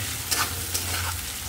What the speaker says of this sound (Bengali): এবার ভালো করে নাড়িয়ে নেব এটাকে।